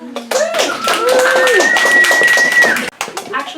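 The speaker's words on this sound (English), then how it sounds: "Actually, round of applause for yourselves." An audience at a zine release reading in a tattoo studio breaks into close, loud applause, with dense clapping mixed with whoops and voices for a few seconds.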